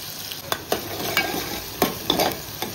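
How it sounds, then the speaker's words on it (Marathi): Onion with garlic and chili frying in a pan while a spoon stirs it, a constant sizzle broken by sharp scraping strokes and clicks at an irregular pace, close and fairly loud. "आणि कांदा। व्यवस्थित आपण शिजवून घेऊया।"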